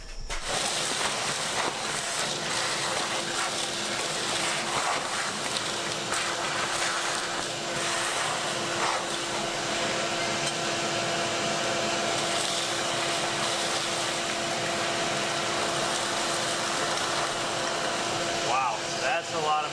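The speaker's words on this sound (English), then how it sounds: "We're actually going to do some vacuuming" A vacuum cleaner works over the engine bay of an abandoned Ford F250 pickup littered with mouse droppings, a loud, continuous droning whoosh that holds steady throughout, with a voice occasionally beneath it.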